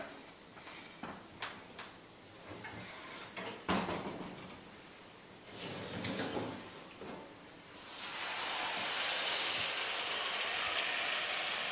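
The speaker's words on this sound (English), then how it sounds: "You hear the bird sizzling?" Clattering and knocking of a roasting pan as a roast turkey comes out of a 550-degree oven, then a steady loud hiss of sizzling fat that continues to the end.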